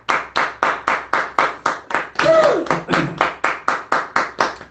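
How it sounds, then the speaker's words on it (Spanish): A church congregation claps in unison in a steady, even rhythm of about three beats per second, and a voice briefly rises over the claps midway. "Un aplauso para el Señor,"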